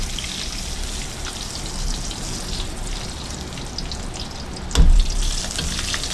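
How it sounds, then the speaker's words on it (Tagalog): Eggplants fry in a pan with a steady, dense sizzle and crackle throughout, plus a brief clatter near the end and no talking. "Luto naman natin itong mga talong."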